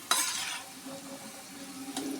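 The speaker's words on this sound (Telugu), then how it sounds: "ఇలానే అన్ని బెండకాయలను ఫ్రై చేసేసుకోవాలి" Okra sizzles in hot oil in a pan, opening with a bright burst of frying hiss, then settling into softer crackling broken by a few metallic clinks and scrapes of stirring.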